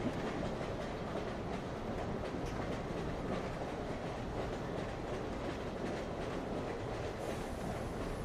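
Steady rumbling train ride from inside a wagon, with continuous wheel noise and faint rhythmic clatter, even and unbroken with no voices.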